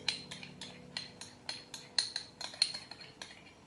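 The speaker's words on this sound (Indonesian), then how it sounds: "Ini kita aduk lagi merata." A metal utensil stirs seasonings of flavoring, salt, sugar and soy sauce in a pan for batagor and bakso, making a regular series of sharp clanks and scrapes, about three per second, close and clear.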